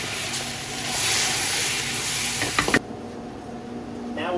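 Ketchup and tomato paste sizzle in a hot pan as they are stirred together for braised brisket, a loud close hiss with a brief cluster of scraping knocks before the frying quiets down abruptly.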